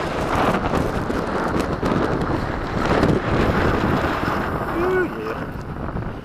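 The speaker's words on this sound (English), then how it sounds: "the wind was blowing pretty good" Steady wind buffets a microphone outdoors during a bumpy low-altitude RC plane flight, a loud continuous rushing roar that fills the whole stretch with only slight swells.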